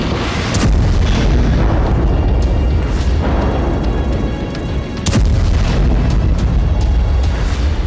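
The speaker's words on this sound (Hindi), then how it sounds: "जहां इलाके खाली हो रहे हैं, वहां हमास के ठिकानों को विस्फोट से उड़ाया जा रहा है।" Heavy explosions demolish Hamas hideouts in Gaza, a continuous loud rumbling roar punctuated by several sharp blasts, the biggest near the end.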